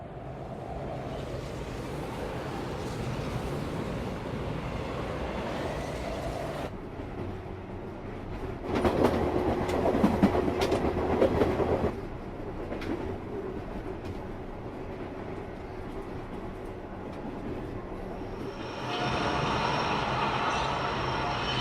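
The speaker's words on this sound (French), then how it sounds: "le train en direction d'Ashikaga Maebashi et à destination de Takasaki va entrer en gare" A train pulls into a station platform on the Takasaki line in snowy weather, with a sustained rumble of wheels on rails. A brighter, noisier rolling stretch comes in the middle, and a faint squeal rises toward the end.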